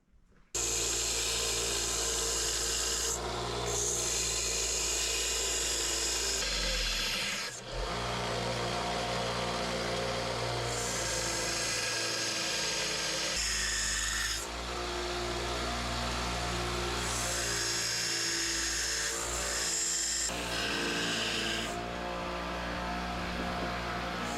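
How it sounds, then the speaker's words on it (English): A Sawzall blade is ground into a carving knife on a grinder, giving a loud, sustained high grinding whine in repeated passes separated by brief pauses as the steel comes off the wheel. "While we're grinding, we'll just dip it in there, keep it cool."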